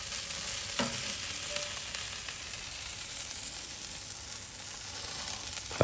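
Sausages sizzle on a Napoleon kettle grill, a steady close crackling hiss that runs without pause, with one sharper pop near the start and no talking.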